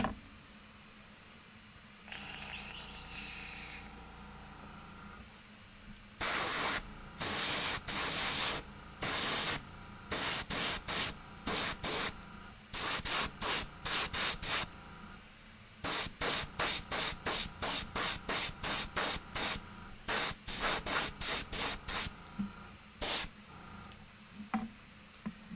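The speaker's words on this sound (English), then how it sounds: "you spray that paint" A can of magenta spray paint hisses in a long series of short bursts, some quick and some held longer, close by with quiet gaps between.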